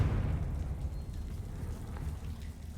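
A Confringo spell explosion in the video game Hogwarts Legacy, a loud rumbling burst that decays into crackling debris noise over a few seconds.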